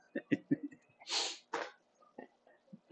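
A person sneezing uncontrollably, a breathy burst followed by a second sharp sneeze, surrounded by short sniffs, gasps and snorting breaths, close and fairly quiet.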